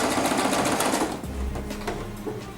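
A sewing machine fitted with a zipper foot stitches a zipper, humming steadily and nearby, then slows and changes pitch partway through.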